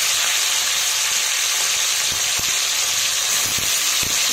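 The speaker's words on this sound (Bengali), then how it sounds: "তেলটা গরম হয়ে গেছে। এবার দিয়ে দেবো চিকেনগুলো।" Chicken pieces for fried rice sizzle loudly in hot oil, a dense continuous hiss close up, with a few light scrapes of stirring near the end and no voices.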